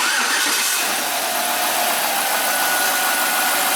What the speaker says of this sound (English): Turn the key on. Just bump the key. It might crank